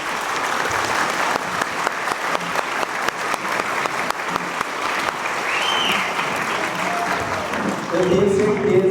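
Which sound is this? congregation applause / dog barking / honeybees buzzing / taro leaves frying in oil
congregation applause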